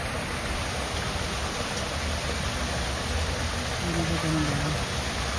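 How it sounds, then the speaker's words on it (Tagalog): Small waterfall at Edwards Gardens in Toronto: steady broadband rush of falling water fills the whole clip, loud and constant, with a voice briefly audible under it near the end. "Ayan na yung waterfalls, oh."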